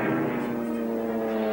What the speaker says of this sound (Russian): Берегись, ребята, я слышу самолет.